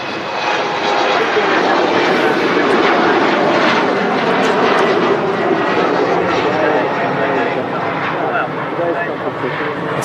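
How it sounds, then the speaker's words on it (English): Embraer jet airliner climbing steeply after departure from Manchester Airport, a loud steady engine roar that fills the whole stretch without letup, with no talk over it. "It's a really steep climb from the Embraer."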